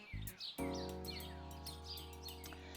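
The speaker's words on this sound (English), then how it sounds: "So birds, many chirp," Birds chirp and tweet repeatedly in bright short calls over a sustained tonal hum, faint and somewhat distant, with no talking.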